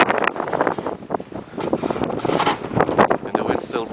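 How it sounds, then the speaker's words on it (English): Blizzard wind buffets the microphone in rough, gusty roars that rise and fall over a few seconds, with a voice heard faintly under the gusts. "And the wind's still blowing."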